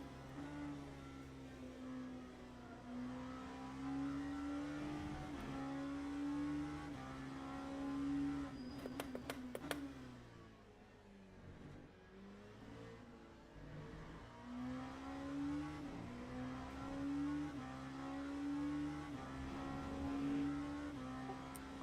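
A race car engine in the racing game Le Mans Ultimate drones and revs continuously in the background at Silverstone, pitch rising and falling with gear shifts, fairly quiet and without speech.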